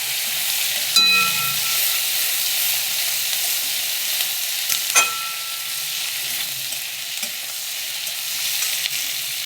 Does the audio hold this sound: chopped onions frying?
yes